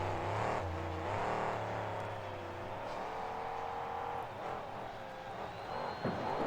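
A monster truck engine roars steadily through a freestyle run, with a rising and falling drone of revs heard from a distance over crowd ambience.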